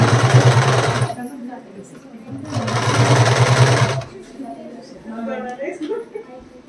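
Sewing machine stitching saree pleats, two loud steady whirring runs of a few seconds each, close up, with someone talking between and after the runs.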